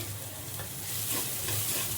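Fresh coriander leaves sizzle in hot tempering oil for a Mumbai vada pav potato filling, a steady close frying hiss with a low hum beneath and no talking.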